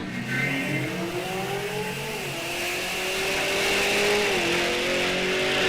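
Two drag cars, a Mopar and a fast Corvette, race down an eighth-mile track, with loud, continuous engine roar and rising revs as they accelerate away together.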